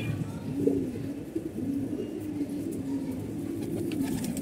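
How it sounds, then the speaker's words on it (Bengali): A pair of pigeons coos softly nearby, low throaty calls repeating in a slow rhythm over a steady background hum. "এই যে দুটা কবুতর দেখতে পাচ্ছেন, এই দুটা কিন্তু জোড়া"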